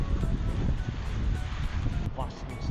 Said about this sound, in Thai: ขณะนี้เราก็อยู่ข้างบนลมแรงมากนะครับ